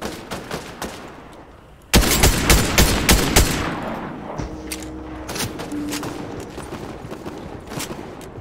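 Gunfire in a no-build Fortnite match: scattered shots give way to a loud, sudden barrage of rapid automatic fire. Dense bursts keep coming, then thin into repeated volleys and distant pops.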